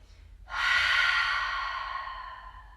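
A long, breathy exhale through the mouth during a yoga clearing breath, starting abruptly and fading slowly over about two seconds, close and fairly loud against a quiet room.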